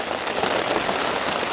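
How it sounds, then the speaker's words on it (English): Heavy winter storm rain pours steadily onto a swampy campsite, a dense, constant hiss of drops drumming on surfaces close by, with no voices. "there's no end to this heavy rain in sight."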